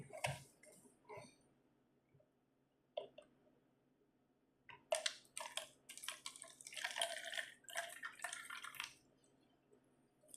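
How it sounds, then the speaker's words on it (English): Distilled water trickles and drips into a container holding a pothos plant cutting, first a few scattered drips and then a denser burst of pouring, close and quiet. "I'm going to add some water."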